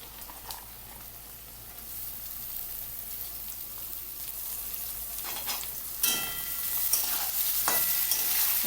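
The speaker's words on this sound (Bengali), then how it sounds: "এবার এর মধ্যে দিয়ে দেবো গাজর কুচি।" Chopped carrots go into onions already frying over a high flame in a pan for vegetable egg Maggi. A close, steady sizzle is broken by scraping stirs and clatters.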